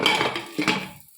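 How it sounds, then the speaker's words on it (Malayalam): A pressure cooker lid is set down and closed, giving two quick metallic clanks in close succession, near and brief, with no talking. "ഇനിയിപ്പോൾ വേഗം തന്നെ കുക്കറങ്ങ് അടച്ചു വെക്കണം"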